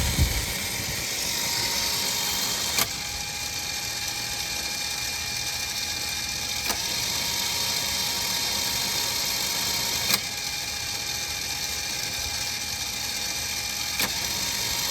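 An ATV winch runs steadily, pulling a rope saw cable through a pulley, a continuous whining motor hum with occasional sharp clicks or snaps recurring every few seconds.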